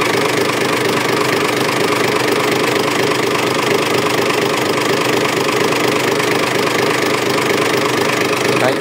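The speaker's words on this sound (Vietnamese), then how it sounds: "máy êm rít luôn." A Mitsubishi 6D14 diesel engine on construction machinery runs continuously, a loud, even, dense rumble with steady knocking that holds without pause throughout.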